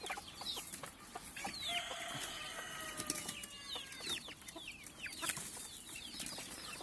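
Several chickens cluck and squawk in overlapping calls, with brief chirps and wing flutters, moderately close against a steady outdoor background.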